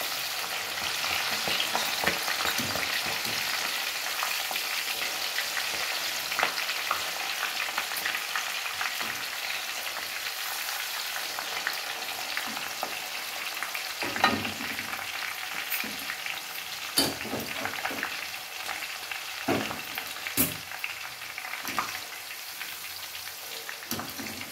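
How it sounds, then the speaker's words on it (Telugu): Broad bean seeds fry steadily in a pan with an even, rain-like crackle, while a spoon stirs them in regular scraping strokes that bring sharper clicks and pops. "ఈ వీడియోలో చూపిస్తున్న విధంగా మంచిగా కలుపుతూ ఫ్రై చేసుకోవాలి"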